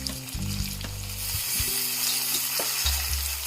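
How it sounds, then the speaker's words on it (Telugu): Washed bitter gourd pieces, added after turmeric, sizzle steadily in a hot pan, with a continuous frying hiss broken by low clunks of pieces and utensil, loud and close, no talking. "ఇప్పుడు కడిగి పెట్టుకున్న కాకరకాయ ముక్కలను వేసుకుందాం"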